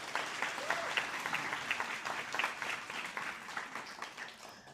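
Applause at a guide dog graduation ceremony, many hands clapping in a moderately distant, steady wash that tapers slightly toward the end.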